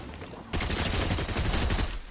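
Dense, continuous burst of energy-weapon gunfire from the Zapatron in Fortnite, kicking in abruptly after a quiet half-second and holding loud and steady to the end, with no talk over it.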